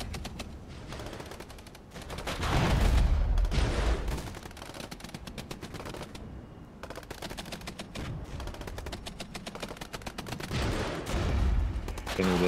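Rapid bursts of automatic gunfire and heavier booming shots fill a close-range battle between tanks and infantry in a video game, with loud sustained volleys rising and falling continuously, a voice briefly heard beneath.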